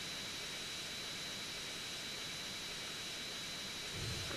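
The steady, loud roar of a plane engine fills the whole stretch as the aircraft comes in to land in GTA San Andreas, with a constant broadband hiss and a slight swell at the end.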